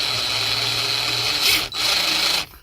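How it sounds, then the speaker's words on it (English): Drill boring into the ignition lock of a 2005 Honda Accord during extraction, a steady loud grinding rasp that pauses briefly, resumes, then cuts off near the end. "once it's dug in, drill and pull backwards"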